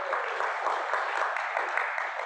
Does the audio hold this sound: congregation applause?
yes